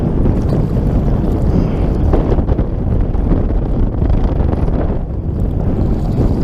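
Strong wind buffets the microphone in continuous rough gusts, loud and unsteady, with no voices.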